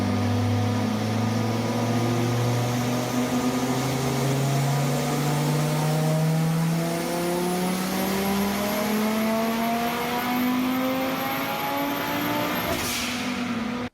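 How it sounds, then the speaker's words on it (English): A tuned Audi engine on a dyno pull, revving steadily upward in one long continuous climb of rising pitch, loud and close, then cutting off sharply at the end, with no talk. "I'm gonna cut in a clip here of the dyno pulls and the dyno sheet."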